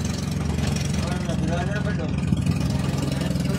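A fishing boat's engine with a reported fault runs steadily at sea, a loud continuous low rumble with a slight pulsing throb and no pauses.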